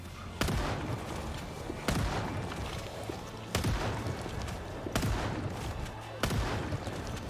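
Five sharp pistol shots ring out at roughly even intervals in the video game Project Zomboid, each loud and close, with a steady low hum and busy game noise underneath.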